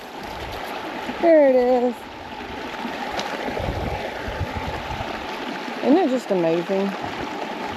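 A forest creek flows in a steady, soft trickle and rush beneath someone speaking nearby, with brief bird calls standing out over the water.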